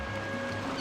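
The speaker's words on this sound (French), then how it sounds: "C'est le bruit que font les vagues." Ocean waves washing onto a beach, a steady broadband rush of surf with a low rumble, continuous and fairly close, with no voices over it.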